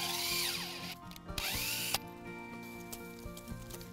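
A cordless drill bores a tap hole into a maple tree on a syrup farm, its motor whining steadily up close with pitch sweeps as the bit slows and speeds, followed by a few short clicks and knocks.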